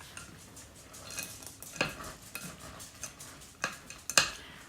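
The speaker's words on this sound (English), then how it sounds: "you take 1 cup of the white chocolate chips. And you're just going to fold that in." White chocolate chips folded into thick red velvet brownie batter: soft, irregular scraping and stirring strokes of a utensil in a bowl, with a few sharper clacks against the side, close and quiet, no voices.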